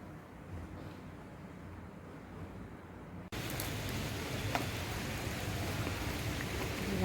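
Steady rain falling at night, a dense even hiss that jumps noticeably louder and closer about halfway through, with no voices.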